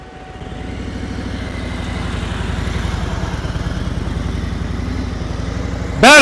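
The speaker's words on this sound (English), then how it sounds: "Throttle's too low. I know you hear it because I hear it." A motorcycle engine runs at too low a throttle during a riding lesson, giving a steady, close, low rumbling putter that builds slightly and holds without speech, ending in a brief sharp noise.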